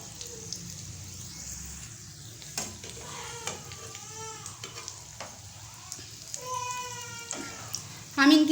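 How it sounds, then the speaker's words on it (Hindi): Aloo rolls fry in hot oil with a steady sizzle and crackle throughout, and a voice talks over the frying. "और इनको फ्राई करेंगे।"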